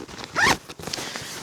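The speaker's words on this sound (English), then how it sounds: "Okay, so this has a top zipper, so I can store some goodies" A single quick zip pulled on the top-lid zipper of an Osprey Rook 65 backpack, close and loud, followed by faint handling rustle.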